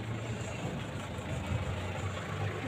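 A Japan surplus vehicle's diesel engine idles in a steady low rumble, continuous and moderately near with no voices.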